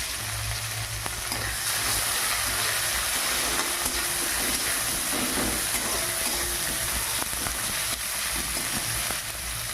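Onions and potatoes sizzle steadily in a hot pan, a continuous frying hiss with occasional scraping as the pieces are stirred, close and moderately loud with no talking.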